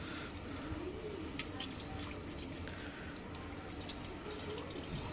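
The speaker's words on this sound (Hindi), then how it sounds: "तो भाई यहाँ मिलाते हैं थोड़ा सा पानी इसको" Water trickling and splashing steadily into a bowl of dish wash liquid being mixed while servicing a Yamaha R15 V3 radiator, a continuous close pouring and dripping sound with no voices.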